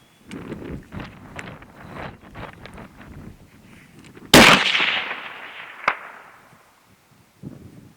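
A single loud 6.5 Creedmoor rifle shot cracks outdoors after a stretch of wind and low rustling, followed by a faint distant ping of the bullet striking a steel target.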